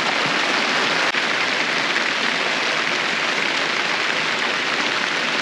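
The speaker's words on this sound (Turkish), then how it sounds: "bir tane diktik yağmur bastırdı" Steady, heavy rain pours down as a dense, continuous hiss, loud and close throughout with no voices.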